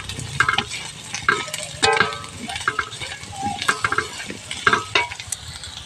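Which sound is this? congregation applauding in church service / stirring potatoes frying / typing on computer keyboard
stirring potatoes frying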